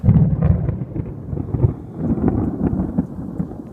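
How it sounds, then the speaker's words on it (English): Thunder rumbling over an open Florida marsh during a thunderstorm, heavy low rolling booms sustained across the clip, close and loud, with wind buffeting the microphone. "I just rode out a thunderstorm"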